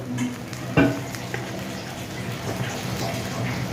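Soaked rice fries in a pan for a pulao, giving a soft, continuous sizzle with an occasional scrape of stirring.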